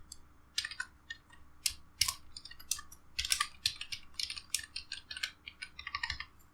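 Code being typed on a computer keyboard into Notepad, a close, steady run of crisp key clicks in uneven bursts with brief pauses, no voices.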